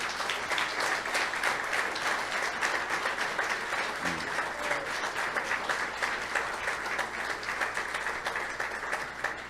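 Sustained applause fills a church service for a pastor-evangelist, many hands clapping in a thick, continuous roar that stays loud and level throughout with no distinct talk over it.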